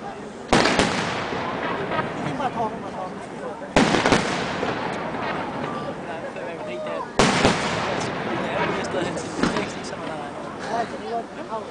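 Fireworks burst over Tivoli in Copenhagen, three sharp loud bangs each followed by crackling fizz and rumbling decay, while people chat nearby throughout.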